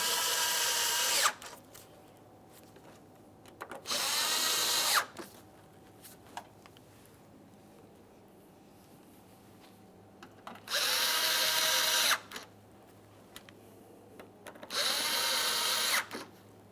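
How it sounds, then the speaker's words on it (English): Power drill driving four mounting screws into a 2014-2018 Mazda 3 bumper, heard as four separate whirring bursts of one to two seconds each, with quiet pauses between them. "We'll tighten those 4 mounting screws."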